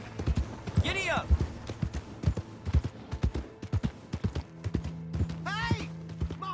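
Horse hooves galloping in Red Dead Redemption 2, a rapid rhythmic clip-clop on the ground throughout, close and clear, with a voice shouting over it.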